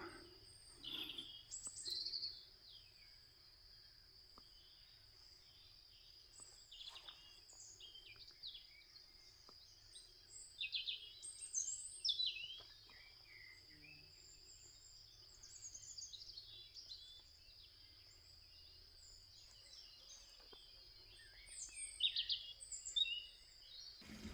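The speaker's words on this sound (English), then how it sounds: "Time for some bird song." Birds sing in quiet countryside along a winter Camino route in Galicia. Scattered chirps and trills come from several directions, some near and some faint, over a steady high insect-like whine and low rumble.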